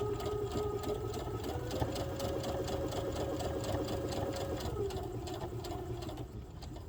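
A sewing machine stitches a fabric bookmark, its fast, steady mechanical chatter running close and loud with a faint whirring tone, slowing and easing off toward the end.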